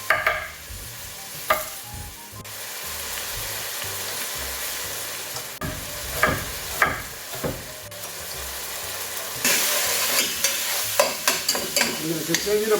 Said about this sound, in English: While the sausage is cooking